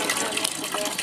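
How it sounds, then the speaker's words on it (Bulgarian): Water gushes steadily from a public fountain in Veliko Tarnovo, Bulgaria, with a loud, continuous close splashing stream. "Чешмена вода."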